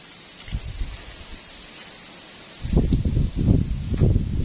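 Strong gusts of wind buffet and roar through trees on a rainy day, a short gust early on, then a louder, sustained rush of blowing wind in the second half.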